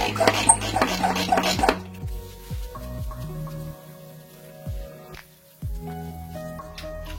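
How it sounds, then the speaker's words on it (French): A small vegetable garden bed is watered in mid-February. A brief hiss of spraying water gives way to scattered drips and soft splashes on the soil. "Et on fait un petit coup d'arrosage."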